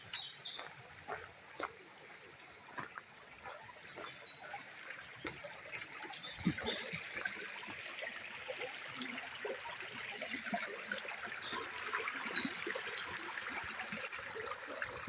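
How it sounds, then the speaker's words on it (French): A small stream trickles softly in a quiet outdoor setting, a faint continuous babble of water with occasional light bird calls and a few scattered footstep-like knocks. "Un petit ruisseau."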